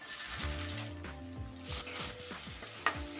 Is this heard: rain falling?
no